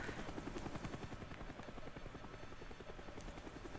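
Helicopter in the Call of Duty Black Ops video game, a steady rapid rotor chop holding loud and continuous overhead for several seconds with no talk over it.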